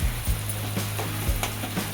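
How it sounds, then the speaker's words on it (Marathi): Ground coconut and tomato sauté in a pan for a traditional black peas curry, giving a steady close sizzle with a few soft stirring scrapes and taps. "आपण याला 2-3 मिनिटे परतून घेऊया."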